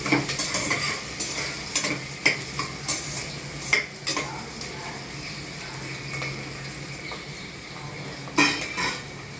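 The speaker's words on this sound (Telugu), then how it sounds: "గోల్డెన్ బ్రౌన్ కలర్ వచ్చే వరకు ఆయిల్లో నూనెలో ఆనియన్స్ కట్ చేసుకున్నవి ఫ్రై చేయాలి." Chopped onions frying in hot oil in a pan until golden brown, a steady close sizzle broken by repeated clinks and scrapes of a spoon stirring against the metal.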